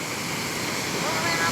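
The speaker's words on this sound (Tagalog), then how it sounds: "Ito ang tinatawag na secret waterfalls." Waterfall in a dense forest in Taiwan, a steady close rush of falling water that fills the whole short stretch as an even, unbroken roar with no voices.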